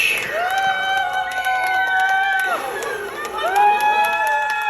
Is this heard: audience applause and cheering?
yes